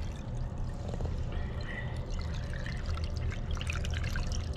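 Water is poured by hand into a water pump with a faulty check valve, a close, steady gurgling pour that fills the space without any talking.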